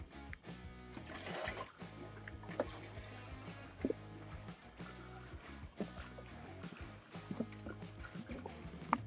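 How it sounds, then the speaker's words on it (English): Windshield washer fluid used as antifreeze pours and trickles into the tank of an HX30 vacuum excavator, a steady liquid splashing with scattered drips and knocks, fairly close. "we're going to put antifreeze in the tank, of course"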